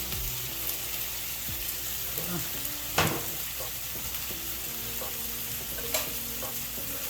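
Bacon jalapeno burger patties topped with cheese sizzle steadily in a pan, a continuous crackling hiss with occasional sharper pops and a few clinks of utensils close by, no voices.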